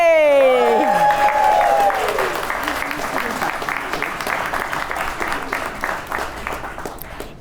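Wedding guests break into loud applause for Sidney and Anthony, a dense burst of clapping that fades gradually over several seconds, with a voice and gliding tones audible at the very start.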